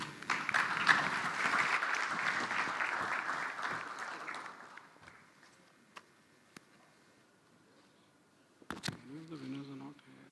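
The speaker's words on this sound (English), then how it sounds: "big round of applause, please" Conference audience applause for a panel fills the first half, then fades away, leaving quiet with a few faint clicks before a voice briefly speaks at the end.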